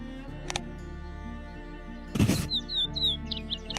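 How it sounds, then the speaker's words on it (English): A purple gallinule calls in a relaxing nature video game, giving short, high chirps and tweets over a soft ambient background, with a brief burst of noise in the middle. "Purple gallinule."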